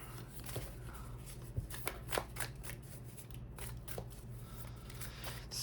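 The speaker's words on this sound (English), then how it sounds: "I'm just gonna shuffle a little bit." Tarot cards are shuffled up close, a run of soft riffling flicks and slaps in an irregular rhythm over quiet room hiss.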